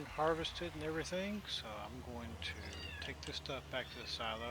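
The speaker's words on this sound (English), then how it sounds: "You can hear a little kitten probably in the background now." A small kitten in an office meows repeatedly in short, high, wavering cries, close and fairly loud, interleaved with someone talking over a steady low engine hum.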